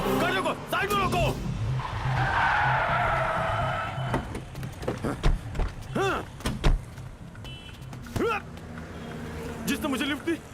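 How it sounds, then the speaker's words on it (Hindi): A car brakes hard and its tires squeal in a drawn-out skid during an action scene in a Hindi-dubbed film, loud and close, with excited shouting voices and thuds around it. "गाड़ी रोको, साइड में रोको।"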